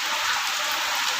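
Steady rain pours down over a village in Sengurichi, Tamil Nadu, a dense, even hiss of drops hitting surfaces, close and constant with no voices.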